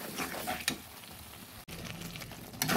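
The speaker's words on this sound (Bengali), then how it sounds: "এবার সব কিছু নেড়ে দেবো। ভালো করে মশলাগুলো এবার ভেজে নিচ্ছি।" Ground spices with coriander powder and cashew being stirred and fried for a Bengali mutton kasa curry, a low, soft sizzle under intermittent scraping strokes of a spoon in the pan, fairly quiet and close.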